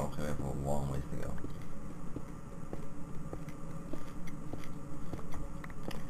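Close-miked chewing with soft rhythmic crunches and mouth sounds, repeating at a steady pace under brief talk and low background noise from a Minecraft game session.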